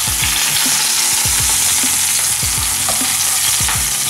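Meat frying in a hot pan gives a loud, continuous sizzle with repeated sharp spits and crackles popping through every second or so, close up and with no talk.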